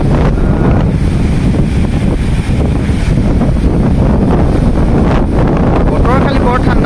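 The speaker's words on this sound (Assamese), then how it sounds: "বহুত ঠাণ্ডা বতাহ মাৰি আছে" Strong cold wind buffets the microphone beside the river at Pasighat, a constant loud roar and rumble with no letup across the whole stretch.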